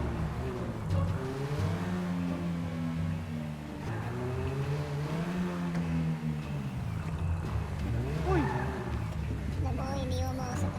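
Engine of a slippery car driven in a video game, a continuous revving drone that rises and falls in pitch, with voices talking over it.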